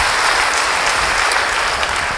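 Dense applause from a church congregation during an Indonesian-language sermon, a steady loud wash of clapping with no gaps.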